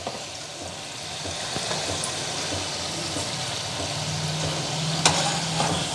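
Sweet potato pantua fry in hot oil with a steady, even sizzle that holds throughout, close and moderately loud with no voices.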